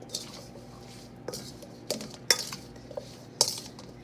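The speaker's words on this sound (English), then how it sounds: "I'm just going to keep kind of agitating them until that ghee's completely melted down." Potatoes tossed with salt in a pan of melting ghee for oven fries, giving soft scraping with a few sharp metallic clinks of utensil against pan, close and moderately quiet.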